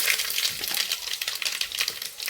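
Mustard seeds crackle and splutter in hot oil at the start of a beef curry, a dense, steady sizzle with rapid pops, close and fairly quiet, with no voices.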